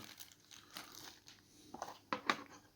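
A plastic bag crinkles and rustles up close while a Kiwi-brand jeweler's precision scale is unboxed, soft irregular crackles building to a few sharper crunches near the end.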